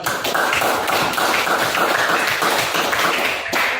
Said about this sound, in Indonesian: kita akan tepuk tangan untuk teman kita.